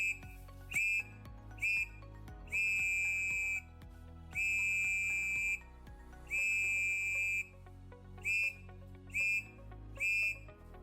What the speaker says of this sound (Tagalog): Pumito ng 3 maiksing tunog gamit ang iyong pito.